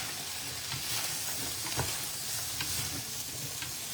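Zucchini stirred into a garlic herb chicken skillet, a continuous sizzle with scraping utensil strokes and soft clunks against the pan, close and steady throughout, no speech.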